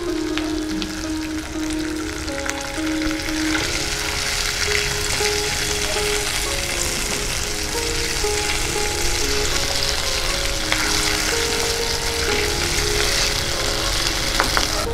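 Ginger paste fried in a spice tempering for gota sedho, a Saraswati Puja dish, sizzles loudly and steadily in an open-air kitchen as water goes in. The crackling frying noise runs continuously with no talk.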